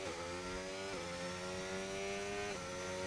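A Formula 1 race car engine in the F1 25 video game, at the Saudi Arabia circuit, drones loudly and steadily, with a single gear-shift dip in pitch about a second in and another near the end.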